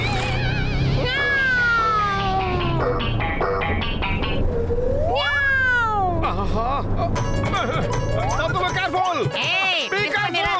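A cartoon cat gives a series of exaggerated, pitch-bending meows and yowls among bright jingles and zany sound effects, with a voice talking over the action in a Motu Patlu animated episode.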